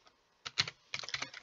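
Computer keyboard keys typed in quick bursts while naming a folder, with a short burst of taps followed by a longer run of rapid clicking, close and clear with no talking.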